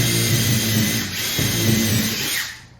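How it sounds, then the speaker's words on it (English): A power drill pre-drills a hole into a wall stud while a performance rack is being mounted, giving a loud, close, steady whine that dips briefly as the bit bites, then winds down at the end. "Pre-drill the new hole and the stud here."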